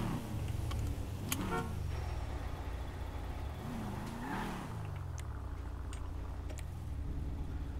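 A Mercedes-AMG car in a GTA roleplay game, its engine revving and shifting with rising and falling pitch sweeps, fairly close, over a steady background of game ambience.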